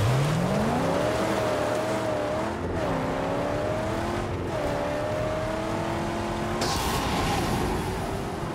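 A race car in a video game drives with its engine revving and climbing steadily in pitch, easing between gear changes, loud and continuous from start to finish.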